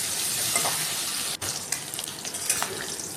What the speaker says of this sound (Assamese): আৰু এতিয়া এইখিনি ভালদৰে ভাজি ল'ম।